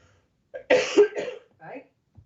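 A few harsh, close coughs and throat-clearing sounds come in a short burst, followed by a quieter rasping cough.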